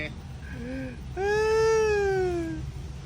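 A cat meows: two short, soft mews followed by one long, loud, drawn-out meow that trails off, heard close up with no other sound competing.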